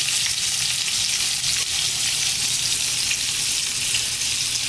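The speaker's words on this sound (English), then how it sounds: "Now it is splattering all over the place" Meat fries loudly in a pan with rosemary, a dense, constant sizzle and spatter that stays close and unbroken, with no voices.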